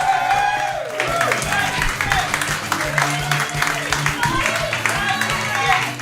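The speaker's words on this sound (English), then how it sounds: "Give him a round of applause!" A stand-up comedy crowd claps and cheers for a comedian named Tim, the applause steady and fairly loud, mixed with whoops and voices calling out over the noise.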